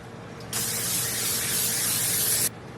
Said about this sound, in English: Just give it a good spray. Got some spray oil.